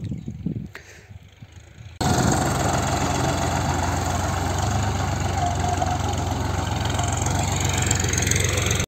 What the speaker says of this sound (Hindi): लगभग 3:30 बजे का ट्रैक्टर चालू कर दिया था हमने